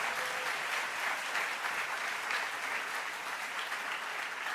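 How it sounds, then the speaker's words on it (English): Audience applause for Dr. Rich Milner at a CUEtalks event, a steady, dense wash of clapping from a large crowd that holds evenly for several seconds with no talk over it. "Can we give him a huge round of applause?"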